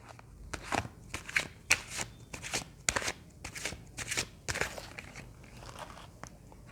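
Tarot cards shuffled by hand in a rapid series of crisp riffling bursts, close and clear with no talking.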